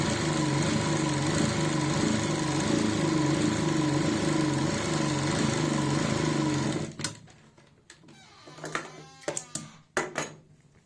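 A sewing machine runs a straight seam on a salwar, a steady close mechanical whir for about seven seconds before it stops, followed by scattered handling clicks and rustles of fabric.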